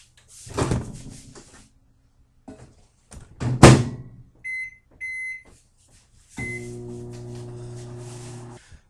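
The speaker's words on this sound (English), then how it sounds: "I'm going to put that in the microwave for 2 minutes" Kitchen clatter and a microwave door thud, followed by a steady low hum with a few electronic beeps as the microwave heats vegetables.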